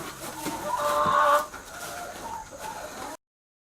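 Chickens cluck and squawk close by on a homestead as they are fed from buckets, a busy flurry of overlapping calls peaking early, then settling into quieter clucking before cutting off.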